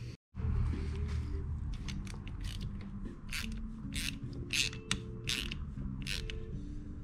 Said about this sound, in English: I'll use the screw that holds this in place to pull that rest of the head into the bearing.